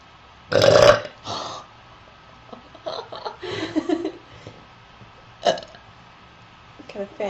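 A girl lets out a loud, deep burp during a two-girl burping competition, followed by a few smaller belches, some laughter and chatter scattered across the rest of the stretch.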